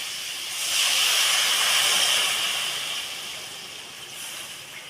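Water poured over sautéed vegetables in a hot pan bursts into a loud, steady steam hiss that swells over the first seconds and then slowly eases, with no talking.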